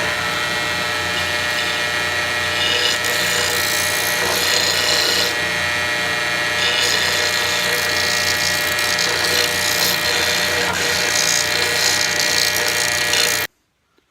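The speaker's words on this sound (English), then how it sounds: "Let's go over to the sander right quick." A power sander smooths and rounds over the edges of a handmade wooden slingshot, running as a steady, loud, continuous whine for about thirteen seconds before cutting off abruptly.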